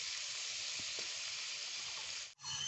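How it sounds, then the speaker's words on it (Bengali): Paneer pieces fry in a pan without turmeric, a soft, steady hiss of sizzling oil with a couple of faint stirring taps and a brief cut near the end. "পনিরগুলোকে আমি হলুদ দেবো না হলুদ ছাড়াই ভেজে নেব"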